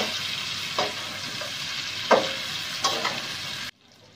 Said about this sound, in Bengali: আমি এবার মাংসটাকে ভালো করে কষিয়ে নিচ্ছি।